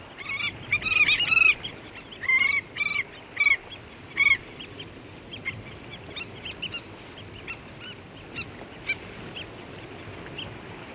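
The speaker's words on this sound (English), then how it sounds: "These are skimmers," Skimmers and other water birds call over a flooded Zambezi plain that has become a vast shallow lake, with a burst of loud, close honking calls early on, then fainter scattered calls against a low steady background.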